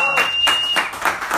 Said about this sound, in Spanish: y pues un aplauso por favor para Natalia.